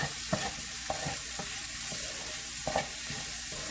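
Stirring green tomato chutney with freshly torn mint in a pan, a steady soft scraping and gentle sizzle running throughout with a few louder spoon knocks against the pan.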